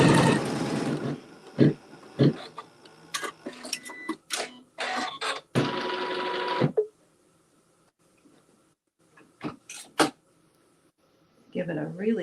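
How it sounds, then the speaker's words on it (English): A sewing machine stitching a quilt seam in short, close bursts of rapid mechanical whirring, separated by pauses with brief clicks and handling noises, and some talking in between. "stitch that seam"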